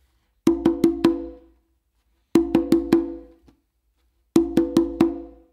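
Conga drums played with four alternating open tones between the hands, heard as three quick groups of four ringing, resonant hits with silence between each group, close and clear with no talking.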